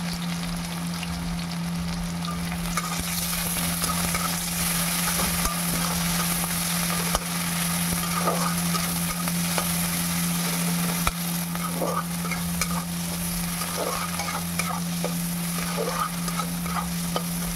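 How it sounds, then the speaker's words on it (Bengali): Chopped onion fries in oil with nigella seeds, a constant close sizzle broken by regular scraping stirs of a spatula against the pan, steady and loud with no talking. "পেঁয়াজটাকে আমি একটু ভাজা ভাজা করে নেব"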